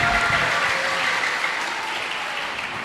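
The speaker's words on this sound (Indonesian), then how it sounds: "Oke, tepuk tangan untuk kita semua." Audience applause at an Islamic gathering on living nobly with the Qur'an: a steady wash of many hands clapping together, even and sustained across the whole stretch, with no voices on top.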